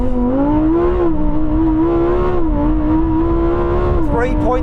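A rear-wheel-drive Lamborghini Huracan Tecnica launches hard from a standstill, its engine giving a loud, sustained, rich harmonic roar that climbs steadily, then breaks sharply near the end as a gear change hits.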